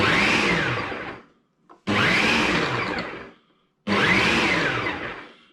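A Ninja food processor chopping five mushrooms, running in three loud, even pulses of about a second and a half each, with short silent gaps between them and a light clunk in one gap.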